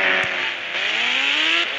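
Motorbike engine revving in the Indian Bike 3D video game, a steady loud whine that rises in pitch over a couple of seconds and carries on without a pause.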